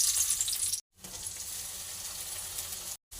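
Onion sizzling in ghee in a pan, a steady hissing fry with two short breaks, close and fairly quiet with no voices.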